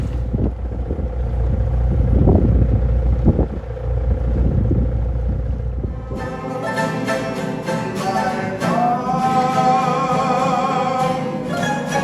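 A motorboat crosses a lagoon at the Apataki atoll, first with low wind-buffeted rumble, then a steady droning engine hum with tonal harmonics holding for the second half, no voices.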